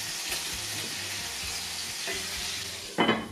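Cutlets sizzle steadily in a frying pan with no breading, a continuous crackling hiss with small pops and a louder burst of spatter near the end.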